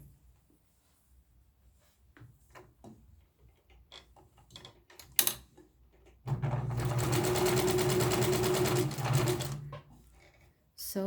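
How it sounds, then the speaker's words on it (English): Singer Touch-Tronic 2001 sewing machine winding a bobbin: after a few light clicks and handling taps, a steady loud motor whir runs for about three seconds and then stops, with talking around it. "way how to wind the bobbin of this sewing machine model Touch-Tronic 2001"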